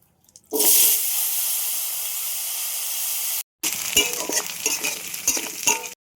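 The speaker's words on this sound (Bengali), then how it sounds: "এখন আলুটা ভেজে নেব" Potatoes fry in hot oil with cumin for a stinging catfish curry, giving a steady loud sizzle that cuts out briefly, then returns as a busier crackle with clinks of stirring.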